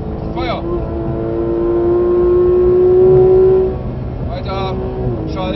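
Porsche 991 GT3 RS at full throttle on the Nürburgring Nordschleife, heard from inside: a loud, steady rising engine note climbs for a few seconds and then drops away, with a coach shouting over it at the start and the end.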